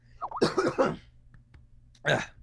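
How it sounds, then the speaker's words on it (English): A short throaty cough burst near the start, followed by a second brief cough a moment later, close and fairly quiet against a silent background. "Cough"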